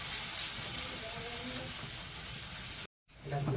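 Onions frying in a pan and turned with a spatula give a steady broadband sizzle with soft scraping, and a brief cut to silence comes near the end.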